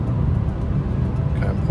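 A Mercedes E53 AMG rolls into a curve on Distronic Plus, with a steady low cabin rumble of engine and road noise while someone talks in German over it.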